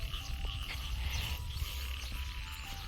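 Dense frog chorus during daytime heavy rain, with rapid, rattling croaks layered over one another, steady and fairly loud with no voices.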